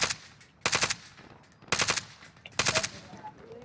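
Three bursts of rapid gunfire crackle loudly, each lasting about a third of a second, separated by short pauses of quieter ambient noise.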